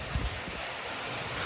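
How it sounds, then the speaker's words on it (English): Rain lashing down in a severe thunderstorm with strong winds in Frisco, Texas, a steady broadband wash of drops close to the microphone with a brief low rumble near the start. "Oh, rain coming at me again."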